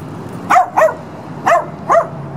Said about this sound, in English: I'm outside with the dogs